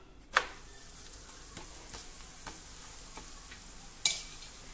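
Food fries in oil in a pan with a soft continuous sizzle. A couple of sharper scrapes or taps occur as the piece is turned over to its other side, with no speech.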